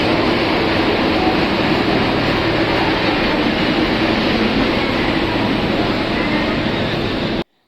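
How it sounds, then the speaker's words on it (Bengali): Amritsar Express train pulling into a station, a steady loud rumble of rolling wagons that fills the whole clip, close by, before cutting off abruptly at the end. "আমাদের ট্রেন ঢুকে গেছে, অমৃতসর এক্সপ্রেস।"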